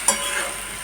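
A tomato and onion paste hitting hot oil and bursting into a loud, close sizzle, with a brief sharp onset that settles into a steady hiss.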